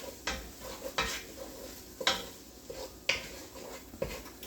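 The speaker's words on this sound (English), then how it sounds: "so we'll saute this for a minute" Rotisserie chicken and potato chowder ingredients sauté with thyme in a pot, with a soft sizzle under regular spoon stirs and scrapes roughly once a second.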